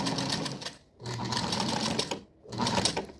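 Sewing machine stitching elastic onto bias binding, running in three quick bursts with short pauses between, a close, steady mechanical whir of the needle.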